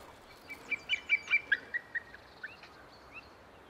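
Distant plaintive calls of large birds, a series of about a dozen short rising-and-falling notes spaced unevenly over a few seconds, faint against quiet background hiss.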